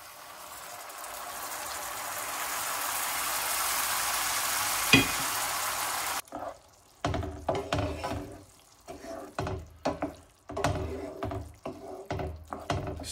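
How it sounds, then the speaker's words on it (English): Wine poured onto toasting rice for a seafood risotto, with a sustained hiss and sizzle followed by intermittent stirring and clinks in the pan. "Now at this point, we add the wine."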